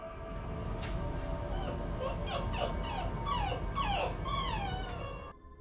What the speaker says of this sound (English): Even the dog is afraid.